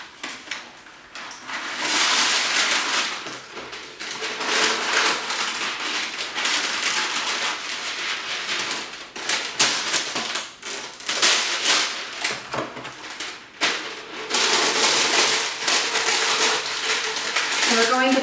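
Parchment paper is handled and crinkled while lining a crock pot for bread dough, giving steady close broadband rustling and crackling for most of the stretch, with brief quieter pauses.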